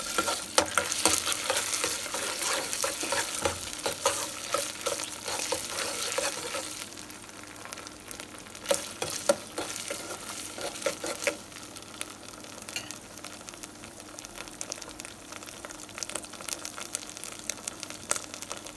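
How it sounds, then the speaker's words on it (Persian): Tomato paste sizzling and frying in hot oil in a pan while a utensil scrapes and stirs it, a dense crackling hiss that eases slightly partway through, close and steady. "رب و به روغنمون اضافه میکنیم"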